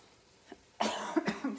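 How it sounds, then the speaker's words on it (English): A few harsh coughs burst out close to the mic, following a faint earlier cough, with short gaps between them. "Excuse me, I'm coughing."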